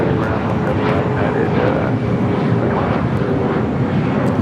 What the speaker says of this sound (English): Sun Country looks like a 25 left takeoff.